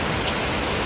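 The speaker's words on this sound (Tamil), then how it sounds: "இன்றைக்கும் ஃபுல் டே இப்படி தாங்க இருக்கும் மழை." Heavy rain pours down in Goa, a dense, loud, unbroken hiss of drops hitting surfaces, with no voices.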